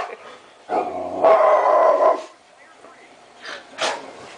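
A dog growls and then barks at a flat cardboard dog cutout indoors, a close rumbling growl followed by a couple of short, sharp barks and yips.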